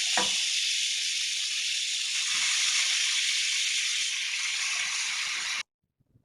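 Half a kilo of mutton hitting a hot kadai on a stove, a sharp burst as the meat drops in and then a loud, steady hiss of sizzling oil that cuts off abruptly near the end.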